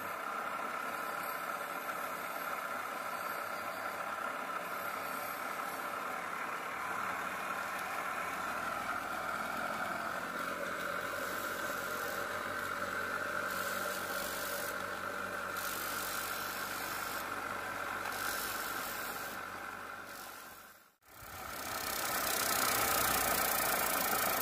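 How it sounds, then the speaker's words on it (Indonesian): Mounted machine polishing spider-web stone on a diamond wheel, a steady mechanical motor drone with rattling grind that runs continuously, briefly cuts out near the end, then resumes at full strength. "sekarang kita beralih ke pemolesan di mata besi intan"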